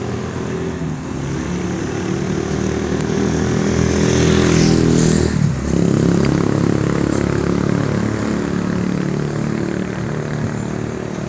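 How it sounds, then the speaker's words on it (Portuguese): A loud engine drones steadily overhead and swells to a peak around the middle before easing off, an airplane passing above the Parque do Povo grounds during São João festival preparations. "Um avião lá em cima, né?"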